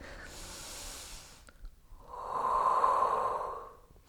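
Quiet breathing during a shoulder rehabilitation exercise: a soft inhale and then a longer, stronger exhale, close to the microphone with no talking.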